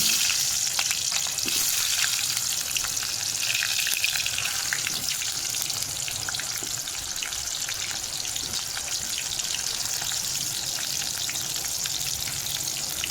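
Onions fry in hot oil in a pan, giving a dense, continuous crackling sizzle throughout that is close and fairly loud, with no voices.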